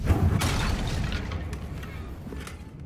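A fiery Confringo spell blast from the Hogwarts Legacy video game erupts with a loud, deep boom up front, then rumbles and crackles as it gradually fades away.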